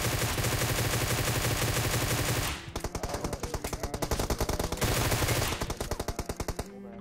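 Rapid automatic gunfire in a PUBG Mobile battle, loud and dense at first, then breaking into separate sharp bursts of repeated shots with brief gaps, continuing nearly throughout with no talk.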